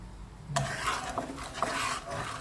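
A spoon stirs salt into coconut milk boiling in a pot for Thai green chicken curry, with a few scraping clinks against the pot over a steady simmering bubble, with no talking.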